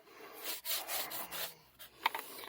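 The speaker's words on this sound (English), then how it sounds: "Give that a scrub." A brush scrubs a surface in several short, raspy strokes with brief pauses between them, close and fairly quiet, ending in a few lighter scrapes.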